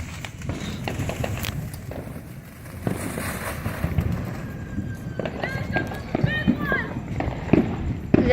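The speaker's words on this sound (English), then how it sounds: "You guys might not be able to hear me because of all the fireworks" Fourth of July fireworks pop and crackle nearby in irregular bursts, with people talking and exclaiming over the bangs throughout.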